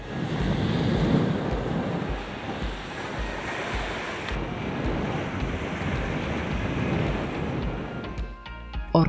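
Sea waves washing steadily onto a Maldives shore, a continuous close rushing surf with wind noise, fading toward the end.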